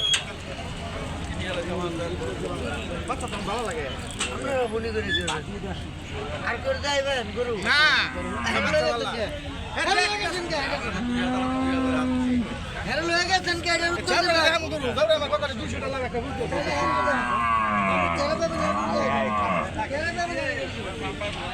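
Cattle, including a large-breed cow, low and call at a busy village cattle market, the moos mixed into a constant crowd hubbub with someone talking over them.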